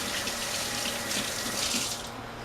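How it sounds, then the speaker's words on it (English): Running tap water splashes steadily over hands at a kitchen sink while someone rinses between baking steps, a continuous broadband rush that tapers off near the end. "Let me rinse my hands real quick"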